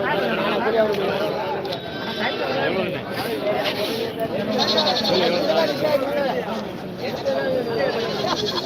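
Goats bleat over constant crowd chatter at a busy outdoor livestock market in Manapparai, with overlapping animal calls and voices all through.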